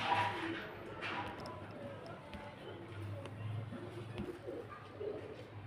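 Pigeons and young squabs kept for sale coo in soft, low phrases close by, with scattered shuffling and muffled noise in a fairly quiet space, with no talk.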